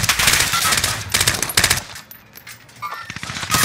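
Call of Duty Warzone Rebirth Resurgence quads match: rapid automatic gunfire bursts, loud and close, come in two main volleys separated by a short quieter gap, then lighter shots follow.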